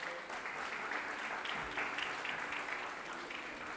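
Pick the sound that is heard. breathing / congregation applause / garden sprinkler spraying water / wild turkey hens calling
congregation applause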